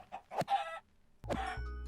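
A Minecraft chicken gives a few short, clipped clucks in two quick bursts separated by a brief pause, fairly quiet and heard alone in the game.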